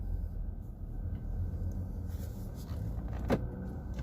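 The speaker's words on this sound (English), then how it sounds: "the doors lock automatically when you start pulling away" Door locks of a 2018 Kia Sportage 1.6 petrol clunking shut automatically as it pulls away, one short mechanical click heard over steady road and engine noise inside the cabin.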